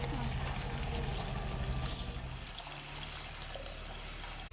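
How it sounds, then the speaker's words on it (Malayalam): Second coconut milk being poured into a pot of banana payasam, a steady close liquid pour and splash running for several seconds before cutting off abruptly. "നമുക്ക് ഈ രണ്ടാം പാൽ ഒഴിച്ചു കൊടുക്കാം. ഈ സമയത്ത് ഒഴിക്കുന്നു."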